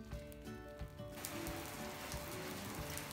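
Steady rain falls on a surface outside a coffee shop window, a dense, even patter that grows fuller after the first second and continues throughout without voices.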